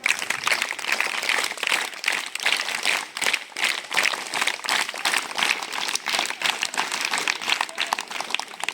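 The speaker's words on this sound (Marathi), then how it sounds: "सुरुवातीला आपण सर्वांनी टाळ्या बाजू क्लॅप बोलू" A school audience of students claps together in sustained, dense applause that runs loud and steady throughout, close and without talk.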